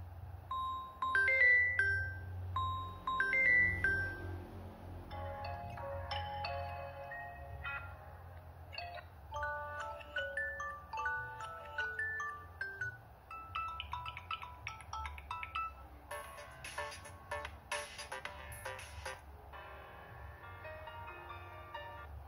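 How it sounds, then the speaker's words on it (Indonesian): A Samsung Galaxy M12 plays a ringtone through its single speaker: a bright, chiming electronic melody of repeated tones and bell-like notes, clear and fairly loud, with no talking. "Berikutnya kita coba kualitas suara speaker dari Samsung Galaxy M12 ini untuk pemutar ringtone."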